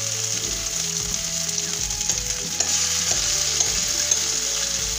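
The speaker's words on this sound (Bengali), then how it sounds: "এই নারকেল বাটাটা দিয়ে দেব," Coconut paste sizzles steadily in a hot pan alongside chillies, a continuous close frying hiss with occasional stirring scrapes and a louder surge midway; no talking.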